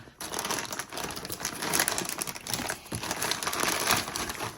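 A plastic bag of spare parts for an SR7 Hoonicorn model build is opened and handled, giving close, continuous crinkling and crumpling with no talk.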